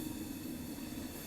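The 12627 KSR Bengaluru–New Delhi Karnataka Express runs along the line, heard from on board as a low, steady rumble with a faint hum that stays even and subdued throughout.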